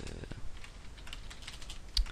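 Fast typing on a computer keyboard, a quick run of light clicking keystrokes, close and fairly quiet, with no talking.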